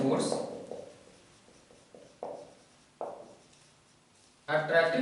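Pen or marker writing a definition by hand, several short scratchy strokes spaced apart in a quiet room, with brief bursts of nearby voice at the start and end.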